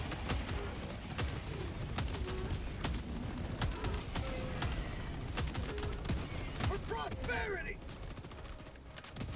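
Rapid, sustained automatic gunfire in Helldivers 2, dense bursts of shots layered over battle noise and a few creature-like cries, continuing almost without pause.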